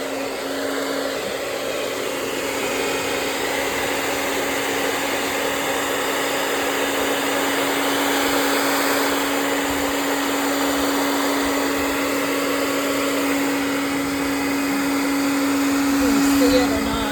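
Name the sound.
hair dryer blowing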